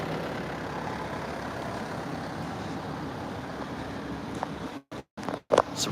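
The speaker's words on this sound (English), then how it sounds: "let's get past this truck" A truck engine idles on a rural road in Kampot, Cambodia, a steady low rumble that continues for several seconds before breaking up into brief gaps and scattered knocks near the end.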